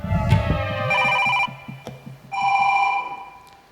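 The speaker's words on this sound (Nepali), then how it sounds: "मैले फोन गर्दा यहाँ रिङटोन आउँछ।" A telephone ringtone plays in two repeating bursts of bright electronic tones, loud and close, with no voices over it.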